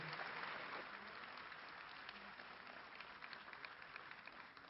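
Steady applause from an audience at a cover-crop agricultural panel, a continuous wash of many hands clapping that holds evenly and fades slightly toward the end.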